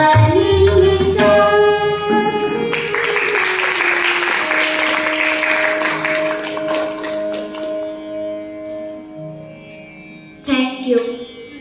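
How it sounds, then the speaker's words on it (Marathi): An audience bursts into applause after a Marathi musical performance of a song; dense clapping fills the room for several seconds, sits under lingering instrumental tones and fades out, then a brief final flurry. "जोरदार टाळ्या झाल्या पाहिजे."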